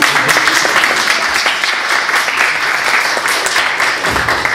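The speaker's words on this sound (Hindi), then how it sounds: "ताली मार दो।" A comedy show crowd claps and applauds steadily for several seconds, dense and loud, with a few cheers or voices mixed in.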